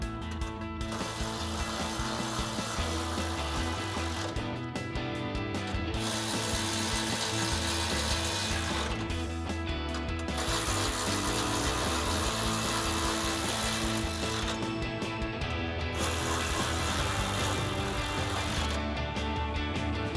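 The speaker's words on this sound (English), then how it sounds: "grab your 10mm socket to tighten these all down" A hand ratchet with a 10mm socket clicks steadily as it tightens bolts on a grille guard for a 2007-2013 Silverado 1500. The close, rapid clicking comes in long runs broken by brief pauses, with no voices.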